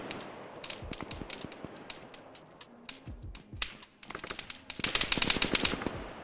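A .50 cal machine gun in Arma 3 fires rapid, crisp bursts of distant-sounding shots, sparse at first and then building into a denser, louder volley toward the end.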